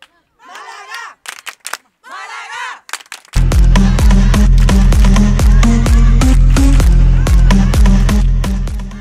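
A crowd at a women's Levante Cup 2016 tournament event shouts a loud rhythmic chant for Málaga, with fast repeated clapping and yelling filling the space after a few brief individual shouts.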